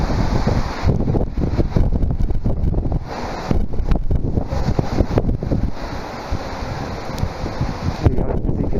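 Strong typhoon winds gust through a street in Kobe, Japan, roaring and buffeting hard against the microphone in loud, continuous surges with brief dips between the gusts.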